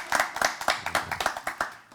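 Scattered clapping following a joke on a political satire show, a few hands beating a quick uneven rhythm of about a dozen claps, fairly close and alone.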